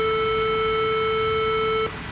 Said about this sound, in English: We just add a couple small notes in here to get this triangle wave shape.